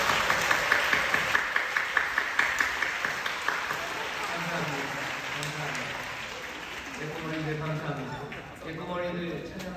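A church congregation at a Friday night prayer service claps for the children, first in a steady rhythmic beat, then in looser applause as voices talk and sing over it.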